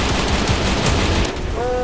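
Rapid, dense automatic gunfire rattles continuously in a Free Fire battle royale match. The firing is loud and close for over a second, then cuts to quieter game sounds and a brief electronic tone.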